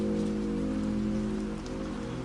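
Steady light rain patters and drums on the roof of a parked car, a dense, even hiss with soft droplet taps continuing throughout at a close, constant level.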